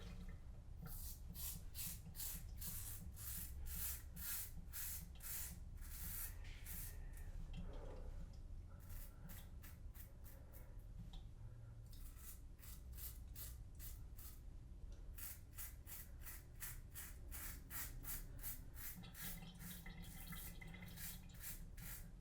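A razor scraping facial hair during a wet shave, a rapid series of crisp, close strokes in short bursts separated by brief pauses, faint and without talk.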